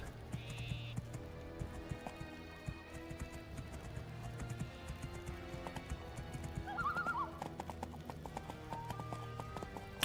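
Steady clip-clop of a ridden horse in the fantasy role-playing game Two Worlds, rhythmic hoofbeats running throughout with a whinny partway through, alongside low game music.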